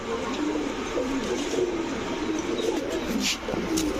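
Racer pigeons, including green and red checker males and females, coo softly and steadily over a constant background hum, with a few brief higher chirps near the end.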